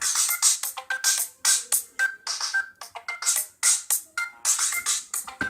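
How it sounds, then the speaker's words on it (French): A phone ringtone plays a bright, repeating electronic melody in quick rhythmic notes, loud and clear with no talking. "on va essayer une sonnerie du téléphone"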